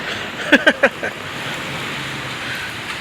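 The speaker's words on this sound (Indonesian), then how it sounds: "Gini kalau udah musim hujan tuh." Heavy rain falls at the arrivals area of Soekarno-Hatta airport's Terminal 2 as a steady, even hiss, with a few quick close clicks near the start.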